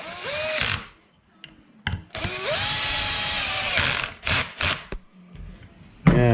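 A power tool drives a fastener to tighten an S.A.F. super clutch back down, a loud whirring drill motor in several bursts of varying length separated by short pauses.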